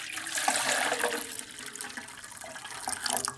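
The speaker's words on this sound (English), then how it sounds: "we're going to add in a little bit of our hot water here" Hot water pours steadily into a container while mixing a carburetor cleaning solution for a Honda HS622 snow blower tune-up, a soft continuous splashing trickle heard close and alone, with no talking.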